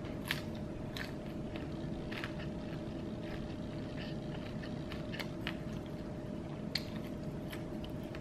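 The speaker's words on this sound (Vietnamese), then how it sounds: "Cắn miếng thịt khô nè." Dried meat jerky is bitten and chewed close to the mouth, with repeated crunchy, moist bites over a steady background hum and no talking.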